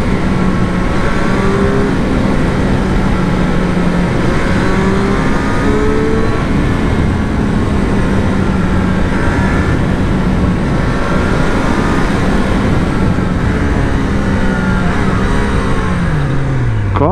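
A Triumph Street Triple 765RS motorcycle, a 2024 model, roars continuously as it is ridden hard. The engine runs loud and close throughout, with rising and falling revs as it accelerates through the gears, and wind rush sits underneath.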